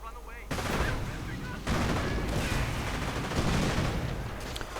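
Grenadiers open fire in a WWII strategy game, a dense continuous crackle of rifle and machine-gun shots with distant booms, surging in bursts at a steady moderate level throughout.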